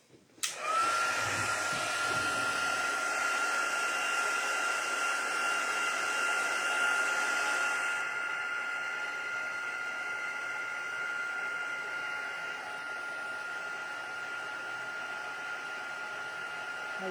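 An embossing heat tool on its second setting blows a steady, loud whirring roar close by, heating embossing powder on a card background, with no one speaking.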